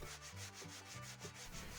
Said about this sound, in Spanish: Pasaremos el taco de lija fina por la zona reparada, preferiblemente con movimientos circulares